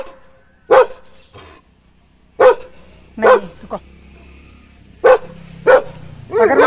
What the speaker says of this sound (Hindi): जहाँ इसको दिख गया ना ये भौंकना स्टार्ट, कोई सा भी हो, डॉग है या कोई बकरी है